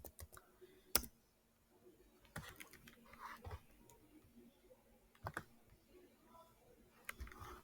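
Keys on a computer keyboard are tapped in faint, irregular clicks, some in quick clusters and others spaced apart, in a quiet room.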